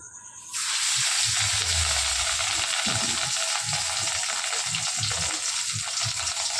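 Food sizzles loudly in a pan, a dense continuous frying hiss that starts abruptly and holds steady, with faint stirring knocks underneath and no voices.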